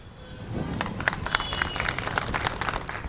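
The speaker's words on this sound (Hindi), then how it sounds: "पहले ऑडियंस के लिए तालियां।" Audience applause at a Pune election carnival stage event, a steady wash of clapping from a crowd, moderately loud and continuous for a few seconds, with a murmur of voices beneath.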